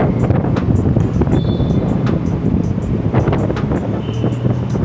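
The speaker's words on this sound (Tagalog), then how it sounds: "Sobrang hangin naman, be." Strong wind buffets the microphone outdoors by a new Starbucks branch at Uptown, a steady low roar with gusty swells throughout and a few faint background noises.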